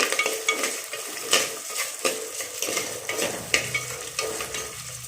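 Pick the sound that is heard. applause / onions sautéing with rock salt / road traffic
onions sautéing with rock salt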